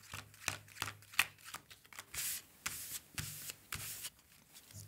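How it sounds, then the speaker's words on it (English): A deck of game cards is shuffled during a solo tabletop session of the cycling board game Flamme Rouge, in repeated quick riffling bursts with soft rubbing between them, close and quiet with no talking. "Shuffle the cards."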